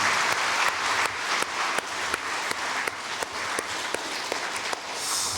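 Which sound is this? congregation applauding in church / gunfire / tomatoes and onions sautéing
congregation applauding in church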